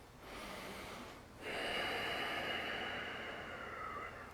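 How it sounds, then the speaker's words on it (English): Slow, deep breathing in a yoga class, a soft inhale followed by a longer, stronger airy exhale, close and quiet with no talking. "Deep breathing."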